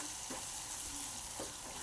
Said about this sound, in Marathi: मसाला ही 2 मिनिटं आपण भाजून घेऊया।